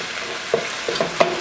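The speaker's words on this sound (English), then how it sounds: "beef is cooking, vegetables are softening up" Beef and vegetables for Thai basil beef (pad kra pao) frying in a pan, a soft continuous sizzle with a few light stirring clicks and no talking.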